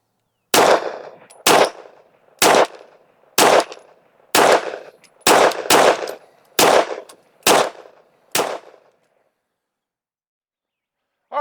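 Pistol shots from 115 grain Federal factory loads fired outdoors at a range, about ten loud, sharp reports spaced roughly a second apart, each with a short echoing tail, then silence.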